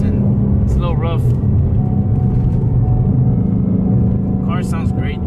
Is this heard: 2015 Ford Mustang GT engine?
yes